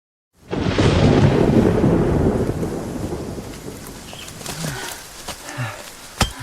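A loud, close thunderclap bursts and rolls out over a mountain hillside, then fades into falling rain with scattered drips and patters.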